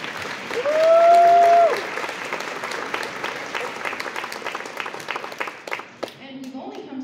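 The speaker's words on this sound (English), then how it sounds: "You can give them a round of applause." An audience applauds a school band at an elementary school concert, the clapping continuing for several seconds alongside a brief sustained instrumental tone and nearby voices talking.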